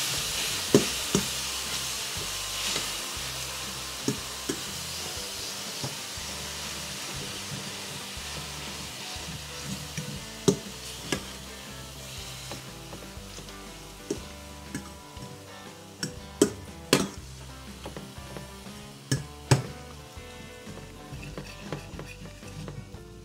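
Ground beef fries in a pan with a continuous close hiss of sizzling, broken by frequent clicks and taps as a fork stirs and separates the meat.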